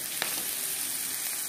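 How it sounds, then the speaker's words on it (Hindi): Capsicum and onion frying in a pan for pav bhaji give off a steady, close sizzle with one light clink near the start and no voices. "अब इसको भी अच्छे से भून लेंगे।"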